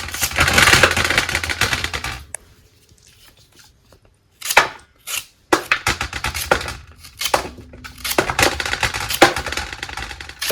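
A knife cuts a banana into thin round slices on a board in quick bursts of sharp chopping taps, broken by short pauses and a few isolated cuts, close and crisp.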